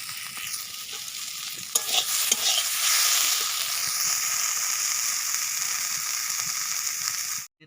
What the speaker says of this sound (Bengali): কড়াতেও ভাজতে বসিয়ে দিয়েছি তো মাছের ডিমের বড়া হচ্ছে